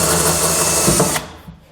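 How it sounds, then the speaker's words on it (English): A power drill with a hole saw, run on high with light pressure, whirs loudly and steadily with a cutting bite, then stops abruptly and winds down into quiet. "I'm going to turn my drill on high and again use a very light pressure"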